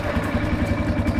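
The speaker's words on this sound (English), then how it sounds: "Whoa, do you hear that? A lot of the sound of the motorcycle" Motorcycle engine, just started with a push button, idles close by with a steady low throbbing rumble, heard alone for a brief moment.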